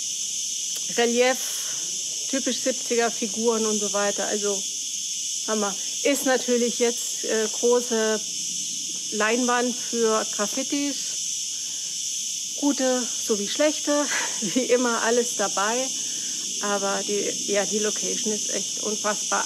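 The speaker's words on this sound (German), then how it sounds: "hier müssen tausende Grillen sitzen" Thousands of crickets chirp loudly at an open-air arena on Ibiza, forming a dense, steady high-pitched drone throughout, while someone talks over it in German.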